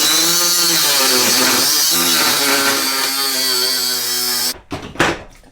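An angle grinder whines loud and close while cutting during a camper build, its pitch dipping and rising under load for several seconds before it abruptly stops, followed by a couple of clunks.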